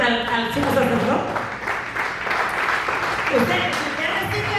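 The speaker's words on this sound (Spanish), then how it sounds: "Den un aplauso al sumo sacerdote." A church congregation breaks into applause, a dense wash of clapping that swells and runs steadily, heard under a voice speaking over it.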